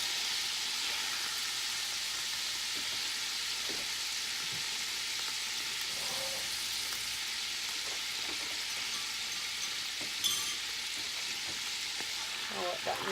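Butter melts into meatball drippings in a hot frying pan, giving a steady, close broadband sizzle and crackle with faint stirring clinks and no talking.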